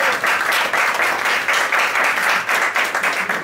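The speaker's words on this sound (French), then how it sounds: "bravo, on peut applaudir" An audience at a comedy sketch show breaks into applause, loud and dense clapping that pulses slightly in intensity and carries on steadily from start to finish.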